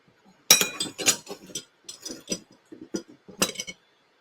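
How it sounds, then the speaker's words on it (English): Spoon stirring sugar into a glass of hops tea, a series of bright clinks and taps of metal against glass in uneven bursts, close and alone. "Stir that sugar in."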